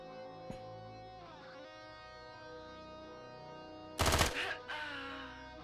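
A Scorpion submachine gun in the video game Quasimorph fires a short, sharp burst, then a second brief volley, loud over steady background music.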